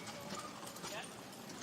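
Carriage horses clip-clop at an indoor FEI Driving World Cup competition in Stockholm, steady hoofbeats running through the whole stretch at moderate distance beneath a commentator's ongoing voice.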